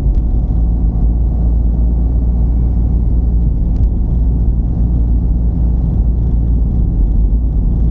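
Steady car engine rumble from inside a moving car as the driver eases the clutch and shifts into second gear, a continuous loud drone with no clear rev change.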